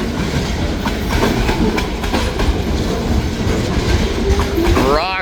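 A freight train led by a GP38 locomotive rolls past close by in the rain with a continuous rumble, rhythmic clickety-clack of wheels and a rising squeal near the end.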